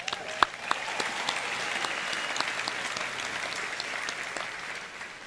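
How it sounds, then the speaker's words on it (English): Sustained applause from a large outdoor commencement crowd at the College of Charleston's Cistern Yard, dense steady clapping with a few sharp nearby claps and faint cheers, holding evenly throughout. "Give yourselves a round of applause"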